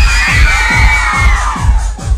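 A party crowd cheers and shouts for a DJ, loud overlapping screams and whoops sustained for a couple of seconds over thumping bass beats of dance music.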